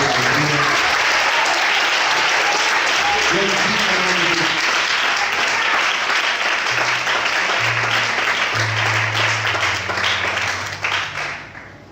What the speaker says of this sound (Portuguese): Desocupe a sua mão, aplauda o Senhor.